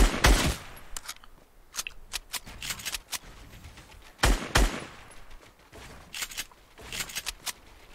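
Bursts of AK rifle fire in a shooter video game, short rapid volleys and single cracks spread unevenly across the stretch with quieter gaps between, loud and close.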